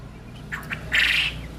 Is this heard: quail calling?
yes